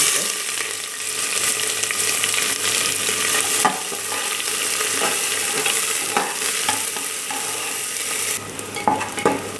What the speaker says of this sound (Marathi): आता बारीक चिरलेला कांदा टाकून